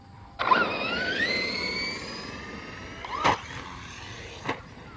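An Arrma Outcast 4S RC car's motor whines up sharply on a quick throttle tap, then fades, followed by a couple of brief bursts later, close by and fairly loud.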